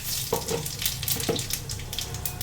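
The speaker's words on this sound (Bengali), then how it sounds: "একটু জিরে ফোড়ন দিয়ে দিলাম" Cumin seeds tempering in hot oil in a kadai for a jackfruit seed curry make a steady close sizzle and crackle, with a couple of soft stirring knocks.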